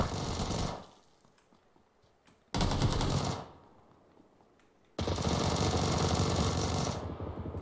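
Sustained automatic gunfire from the video game PUBG Mobile comes in three dense, loud bursts, each a fast rattling stream of shots separated by short gaps.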